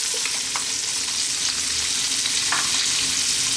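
Chopped onion frying with green cardamom, bay leaf, fresh chili and salt for mutton biryani, a dense, steady close sizzle with a few brief scraping stirs, no one speaking.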